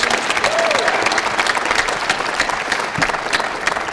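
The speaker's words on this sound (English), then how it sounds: "Round of applause for Alex." Enthusiastic audience applause at a national elevator pitch competition final, dense clapping that holds steady for several seconds and then thins slightly, loud and close with a bit of crowd noise mixed in.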